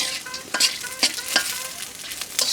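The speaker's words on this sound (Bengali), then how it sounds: "বাদামগুলো প্রথমে সুন্দরভাবে একটু ভেজে নিতে হয়" Peanuts frying and being stirred in a pan for peanut bharta, with a bright sizzle and quick repeated scraping strokes that are close and moderately loud.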